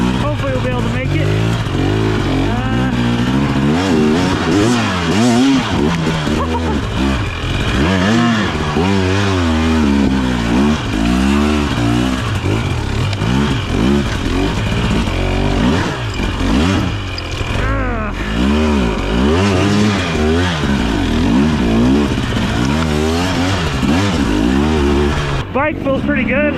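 A 2023 Husqvarna TX300 motorcycle climbs over loose frozen rock, its two-stroke engine revving and bogging continuously at close range, loud and unbroken for the whole stretch.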